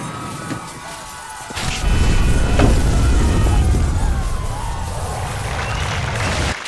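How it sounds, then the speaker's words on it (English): After a quieter moment, a sudden explosion booms in, followed by a long, loud rumbling crash that keeps roaring for several seconds. "what was that explosion?"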